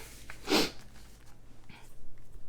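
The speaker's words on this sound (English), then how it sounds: "sorry for the sniffle, a little bit of allergies" A single quick, close sniffle through the nose, followed by quiet breathing and faint room noise.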